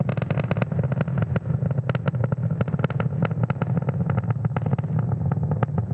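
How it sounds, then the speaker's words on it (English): A SpaceX Falcon 9 rocket carrying Gen2 Starlink satellites roars during ascent, a loud, continuous crackling rumble with rapid irregular pops throughout. "Falcon 9 carrying our Starlink payload out into space"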